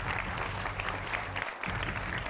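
Studio audience applause welcoming guests on a Hindi political TV debate show, a steady dense crowd of clapping running throughout with a brief dip near the middle, under low musical tones.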